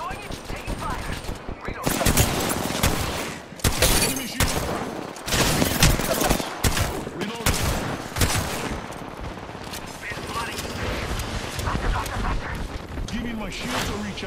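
Rapid gunfire bursts from a squad-based shooter video game, loud and dense, with a shotgun among the weapons, firing in repeated volleys over a continuous background of game sound and effects.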